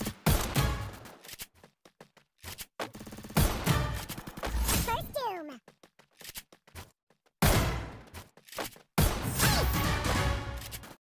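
Gunfire and headshots from the Free Fire video game come in loud, rapid bursts and scattered shots, broken by short silent gaps, with harsh impact-like crashes among them.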